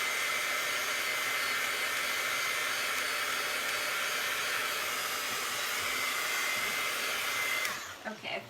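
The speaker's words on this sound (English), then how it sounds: "Let's see if we can give it a quick dry with the heat tool." A heat tool blows steadily on a spritzed paper card, a loud continuous whooshing hum that runs unbroken for several seconds before cutting off, followed by brief handling noises.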